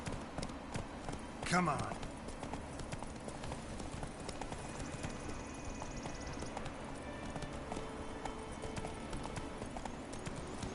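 Roach, the horse in The Witcher 3, clip-clops in a steady galloping rhythm of hoofbeats throughout, under occasional speech and game sounds.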